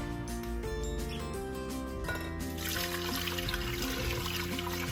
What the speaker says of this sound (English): Make sure you add enough water so that when you add the meat it's fully submerged.